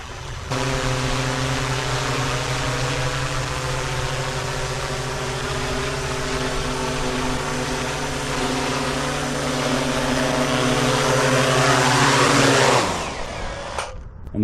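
A fishing drone hovers close and steady with a loud droning propeller whine, its pitch shifting slightly as it descends to land on a beach before the motors cut off.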